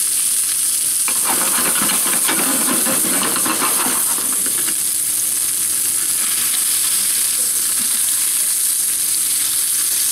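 Rump steak frying in oil in a hot pan gives a constant bright sizzle and hiss, with a louder burst of spitting and stirring noise for a few seconds partway through.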